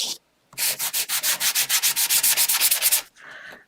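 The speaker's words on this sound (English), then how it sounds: "I'm just lightly sanding." Rhythmic back-and-forth rasping of sandpaper on wood, about twenty quick even strokes, close and clear, with no talking.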